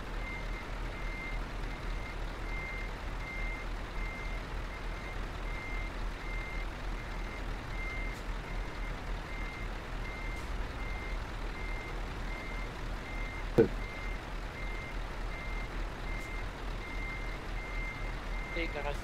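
A truck's reversing alarm beeps steadily and evenly throughout, faint and distant over a low constant hum of background noise, with one brief sharp click partway through.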